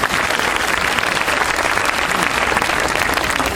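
A crowd at a welcome evening event gives sustained, dense applause that stays steady and loud from start to finish with no break.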